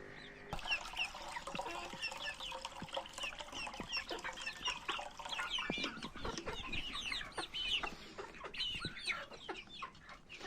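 Young chicks drink a vinegar and water mixture, peeping and cheeping constantly nearby while sharp little taps and pecks at the drinker click through the chorus, with no talk.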